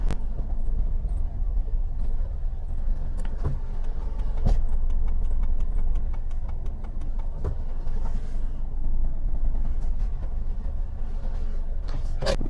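A car engine hums steadily while driving and turning around in a U-turn, with a continuous low rumble and occasional clicks and knocks from the cabin.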